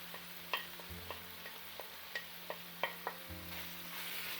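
Spiced potato masala with amchoor, garam masala, red chili and turmeric fries gently in a pan over a low gas flame, a soft steady sizzle broken by a dozen or so light scraping clicks of stirring.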